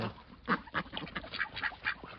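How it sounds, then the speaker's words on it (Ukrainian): Several ducks quack in a busy, overlapping chatter while feeding on beet, cabbage and daikon scraps, close by, with repeated bursts of calls over faint background noise. "Оце називається пасуться качки"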